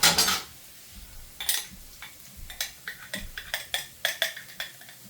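A metal spoon scooping olives from a jar into a dish for a traditional Spanish dinner, with one loud clink first, then a series of light, quick taps and clicks of spoon against glass and ceramic.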